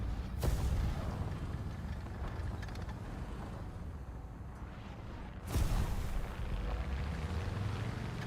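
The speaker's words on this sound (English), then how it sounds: "Nope, I only get hit by friendly artillery." Heavy artillery explosions in a video game boom out in two big blasts, one near the start and another midway, over a constant low rumbling engine-like drone.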